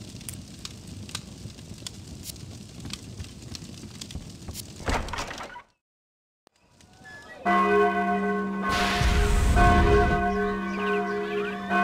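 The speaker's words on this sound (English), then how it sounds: "the alarm bells are ringing" A tolling alarm bell rings in the fantasy video game Sudeki, coming in loud after a stretch of crackling ambience and a brief silence, with sustained overlapping chimes continuing to the end.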